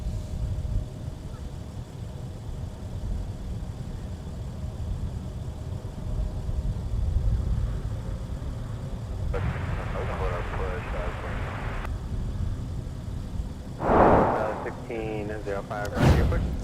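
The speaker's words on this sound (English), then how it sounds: "This was the leading aircraft in that tandem arrival. We had 2 C-130s." Lockheed C-130 military transport aircraft arriving at MSP airport, a steady low engine rumble throughout with passing bursts of other noise and brief voices toward the end.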